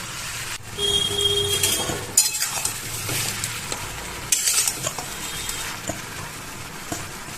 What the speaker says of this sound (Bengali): ভালো করে মিশিয়ে একটু ঢেকে খানিকক্ষণের জন্য রেখে দেবো।